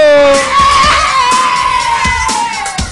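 Children shout and cheer together in a loud, sustained burst at a lively party show with a clown, cheering on the girls' team, voices overlapping into a continuous excited roar.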